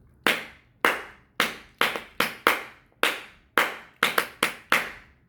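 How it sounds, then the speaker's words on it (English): Hand claps ring out singly and in quick pairs, about a dozen sharp, close strikes spaced irregularly with clear decays between them, no voices underneath. "Hand claps."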